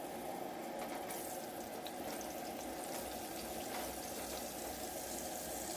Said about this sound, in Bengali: এবার মাংসের আলুগুলোও ভেজে নিই